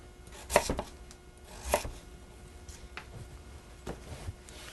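A knife chops turnip on a cutting board for vegetable stock, a few distinct close thuds spaced irregularly with quieter cuts in between.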